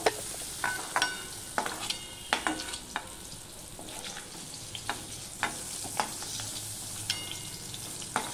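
Pointed gourd frying in oil sizzles steadily up close, punctuated by a regular series of sharp clicks and scrapes from stirring in the pan, with no talking.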